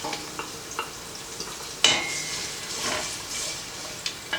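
Chopped onion and yellow peppers fry in a pan, a quiet sizzle broken by light stirring scrapes and a sharper utensil clack partway through.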